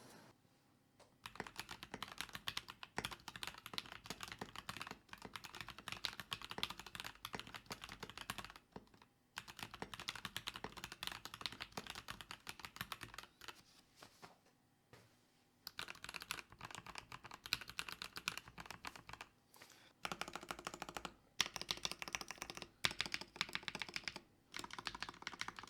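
Steady typing on a Tecware Veil87 TKL mechanical keyboard, a dense stream of close, crisp keystrokes broken by a few short pauses, with no voices.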